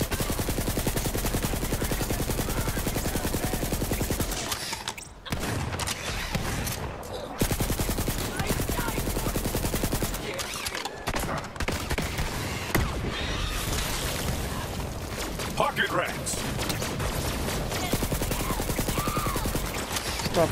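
Sustained automatic fire from a Maliwan SMG in Borderlands 3, loud dense bursts rattling almost without pause, layered with booms and hectic game effects.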